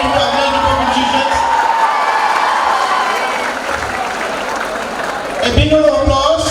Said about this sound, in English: a big round of applause to all of you for having you made into Avinash Group of Institutions